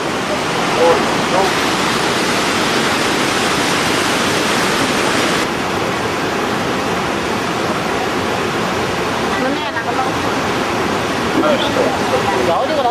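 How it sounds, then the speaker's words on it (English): Large waves crash through a river gorge in China, where the current runs strong: a loud, continuous broadband roar of churning water that fills the whole clip, close and steady with no pauses. "Giving perspective on the size of these waves."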